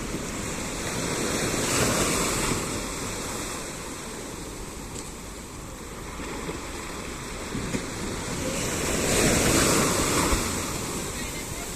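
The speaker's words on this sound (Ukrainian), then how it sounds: "Ось дивіться, яка хвиля йде." Sea waves rolling and breaking on a warm beach, a continuous wash of surf with two louder surges, wind buffeting the microphone throughout.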